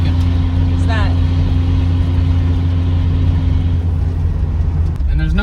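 A hoodless car's engine runs loud and close as it pulls up toward third gear. Its steady droning hum shifts in pitch near the end while people talk over it.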